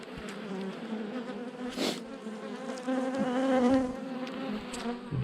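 A honeybee hive crowded with drones gives a dense, steady buzz close up, rising and falling slightly, with individual insects passing near.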